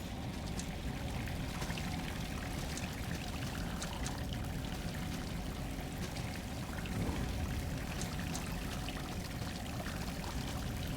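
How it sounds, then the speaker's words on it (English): Water trickles steadily in a cave in the video game Salt and Sanctuary, a continuous even wash of splashing and dripping with no breaks. "I can hear the pitter-patter of water, but not much else."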